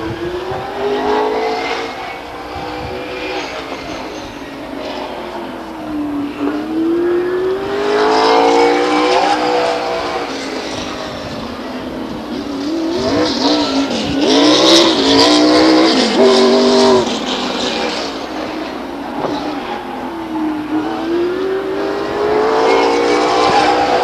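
A late model race car runs a qualifying lap at Stockton 99 Speedway, its engine loud and close, revving and sweeping up and down in pitch through the corners, with a few surges and rising roars on the straights.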